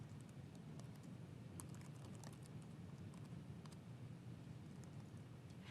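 Quiet, steady clicking of computer keyboard typing as SQL column names are entered, faint and continuous over a low background hum.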